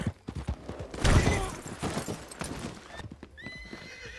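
Horse hooves clip-clop and a horse whinnies in the Red Dead video game, several sharp hoof strikes and a loud neigh close by, with gunfire-like cracks mixed in.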